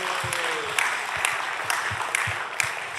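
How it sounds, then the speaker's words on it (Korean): Applause from an audience at a church youth worship service, a steady wash of clapping with sharp individual claps standing out, lasting a few seconds. "한 번 더 우리 박수하겠습니다"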